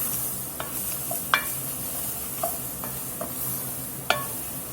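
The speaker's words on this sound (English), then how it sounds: "There ain't nothing quite like the Cajun trinity frying up in a roux." Cajun trinity vegetables fry in a roux under a continuous close sizzle, while a spoon scrapes and stirs through the pan with several sharp knocks and clicks spread across the clip.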